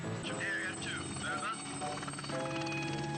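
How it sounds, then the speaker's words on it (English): Helicopter flying in a Doctor Who episode, a steady loud rotor and engine drone running throughout, mixed with music and other soundtrack sounds. "More helicopters."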